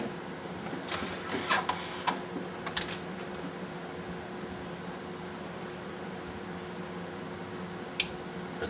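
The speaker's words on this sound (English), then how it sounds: "The relay click, so the amp's turned on." A Sony STR-D450Z amplifier switching on gives a few sharp relay clicks near the start, followed by a quiet steady hum and one more faint click later.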